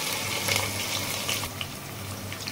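Chopped onions dropped into hot oil with frying spices for a beef curry, giving a steady, moderately loud sizzle and crackle with no voices.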